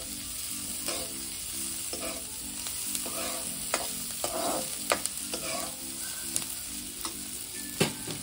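Masala eggplant sizzles steadily in a pan, with a spoon scraping and stirring through it in regular strokes, close and continuous with no talk.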